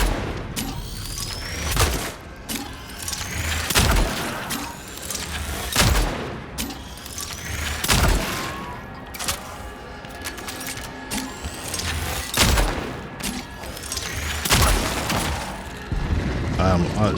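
Gunfire in the video game Cronos The New Dawn: loud, sharp shots ring out at roughly regular two-second intervals, each with a booming tail, over a busy mechanical game soundscape.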